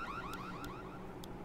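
Looping electronic alarm in the game Secret World Legends, a steady warbling siren tone repeating throughout with brief high chirps at regular intervals, loud and continuous with no voices.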